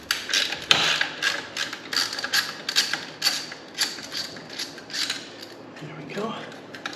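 A 13 mm socket wrench works an exhaust bolt loose on a 2021 BMW R1250RT motorcycle, giving a close, rhythmic series of metallic ratchet clicks in short bursts with small pauses.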